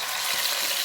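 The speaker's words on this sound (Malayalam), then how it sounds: "അപ്പൊ ഇത് ഓരോന്നായിട്ട് ഇട്ട് കൊടുക്കുന്നുണ്ട് കേട്ടോ പൊരിക്കാൻ" Chicken pieces frying in hot oil for chicken mandi give a steady, close, even sizzle with a dense hiss that holds without pause.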